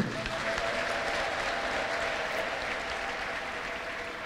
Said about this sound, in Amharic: ለጌታ እስቲ አጨብጭቡ እንደገና